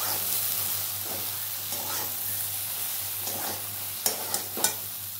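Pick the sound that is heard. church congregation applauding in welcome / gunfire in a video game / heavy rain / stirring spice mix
stirring spice mix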